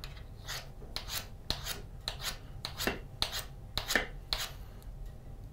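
Short rhythmic rasping strokes of a blade being sharpened to raise a burr, about ten evenly spaced scrapes, close and fairly soft, with no talking.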